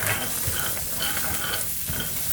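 Peeled almonds dry-roast in an oil-free pan, rattling and scraping under a stirring utensil in a busy, continuous sound from start to finish.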